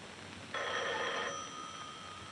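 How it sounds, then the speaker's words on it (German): An old telephone bell rings once in a 1951 German film scene, a single bright burst of roughly a second that rises out of a quiet, hissing background and then stops. "Warum geht denn niemand ans Telefon?"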